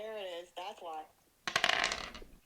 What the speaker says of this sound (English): Simone rolls the dice.